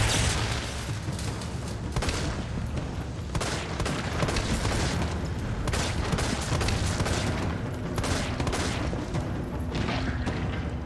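Dense, continuous bursts of rapid gunfire crackle and boom throughout in the video game Resident Evil 3 Remake, like an intense firefight, loud and unbroken with no talk.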